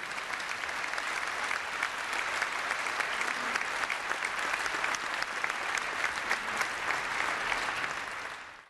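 Applause from an event audience for the 2008 Vodafone McLaren Mercedes Formula One drivers at a team launch. Loud, sustained clapping from a large crowd continues evenly for several seconds and then tapers off at the end.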